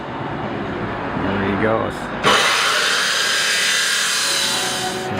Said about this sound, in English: So he's just using a cut-off saw.